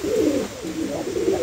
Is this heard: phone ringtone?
no